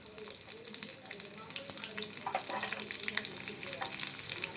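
Mustard seeds spluttering and popping in hot oil for a Kannada basale soppu saaru tempering, a dense run of close crackles and pops with a sizzling hiss underneath.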